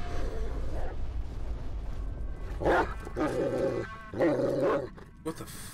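A dog growling and barking in the horror video game Layers of Fear: Inheritance, a few deep harsh barks and snarls in short bursts, loud and close over a low droning game ambience.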